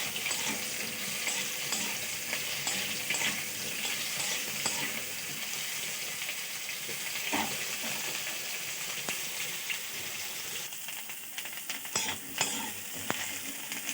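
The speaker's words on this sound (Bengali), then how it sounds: "তেল গরম হয়ে গেছে, কপিটা ভেজে নেব।" Cauliflower pieces frying in hot oil give a steady, close sizzle with bursts of crackle and the scrape of stirring, and no one speaks.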